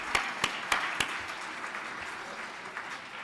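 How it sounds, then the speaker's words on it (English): Audience applause in a banquet hall at an annual awards dinner: several sharp, close claps open over a broad bed of crowd clapping that fades gradually to a softer patter. "Let's give a round of applause to this guy, Demetrius Boutros."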